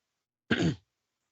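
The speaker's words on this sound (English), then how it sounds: "Sorry, clear my throat." A single short, raspy throat clearing, close by, followed by silence.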